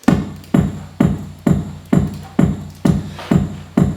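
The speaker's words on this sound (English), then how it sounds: "So I've actually got 2 kicks in this track. Together they sound like this." Two layered kick drums from an Elektron Analog Rhythm drum machine thump in a steady loop, nine punchy hits about half a second apart, each with a boomy low body and a bright click on top, loud and alone.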